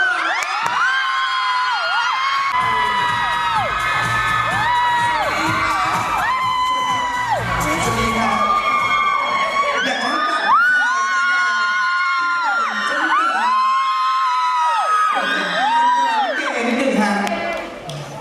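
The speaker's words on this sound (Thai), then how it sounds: "ขอเสียงปรบมือต้อนรับคุณแบงค์สอน" A crowd at a Thai film launch event welcomes the actor Bank with loud cheering, whoops and high-pitched shrieks that rise and fall in repeated waves, with voices shouting throughout.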